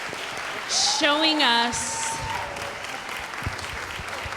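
Crowd applause at a community opioid summit, running steadily underneath a speaker's voice and a brief musical tone.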